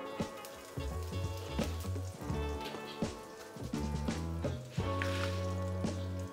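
Asafoetida (hing) hits hot oil in a pan and sizzles with a soft, steady crackle under background music.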